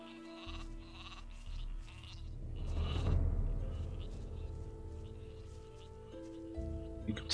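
Sheep in the video game Gothic II bleat in a short, wavering call that rises over a low ambient game rumble, moderately close and heard alone without talk.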